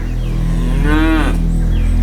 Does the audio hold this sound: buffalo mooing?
yes